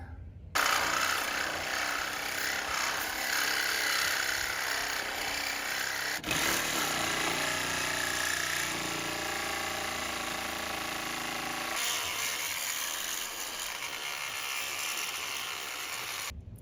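A power tool cuts metal for clearance under a 1928 Ford Model A, a loud continuous grinding whine that shifts pitch midway and then eases into a lower rumble.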